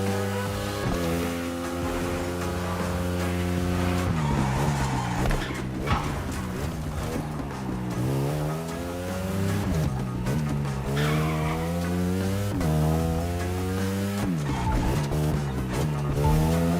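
A Lamborghini Huracan Performante is driven in The Crew Motorfest, its engine climbing through repeated gear changes with rising and falling pitch. Long tyre squeals and skids run throughout, loud and steady with no voices.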